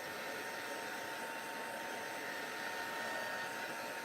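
A handheld heat tool blows over a handmade paper card, producing a constant close fan roar and hiss with no change and no talking.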